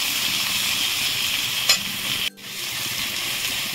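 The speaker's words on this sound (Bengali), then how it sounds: "সবগুলো দিয়ে আবারও ভালো করে একটু ভেজে নেব।" Green chillies, tomatoes and onion frying in a pan, a loud steady sizzle with a scrape of stirring and a brief sudden drop in the hiss before it resumes.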